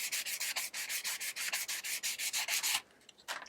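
A bow limb's horn nock being sanded by hand with 100 grit sandpaper, a rapid, even series of raspy strokes, close and fairly quiet, then a brief pause and one more stroke.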